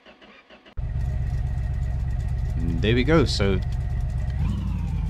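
A car engine cranks and fires up after repair work with the hood open, then settles into a loud steady idle with a brief rev near the end; someone speaks over the running engine.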